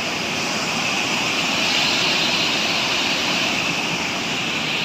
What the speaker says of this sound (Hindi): जो कि बहुत तेज पानी, शायद आवाज़ देख सकते हो तुम पानी की